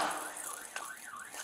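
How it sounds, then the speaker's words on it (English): A car alarm wails outdoors in a Phoenix residential area, its pitch sweeping up and down in repeating cycles, moderately loud and somewhat distant, with no voices over it. "Your alarm's going off!"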